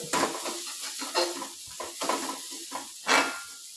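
A spoon stirs through ground paste frying with tempered mustard seeds in a pan, soft scraping strokes over a steady sizzle, close and fairly quiet, with no voices.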